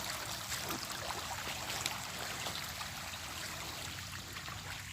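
Water flows in a stream at dusk, a steady soft rushing and trickling that holds evenly throughout with no talk.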